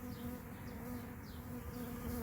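A swarm of honey bees buzzing, a dense, steady droning hum from many insects close by, faint and continuous with no voices.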